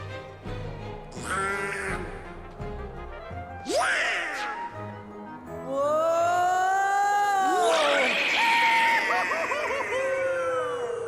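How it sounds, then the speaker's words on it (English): Goofy's signature scream in Kingdom Hearts 2 Final Mix: a loud, warbling, pitch-swooping cartoon wail that rises and falls over several seconds above background game music. "I think that's the first time we've heard the classic Goofy scream in this whole series"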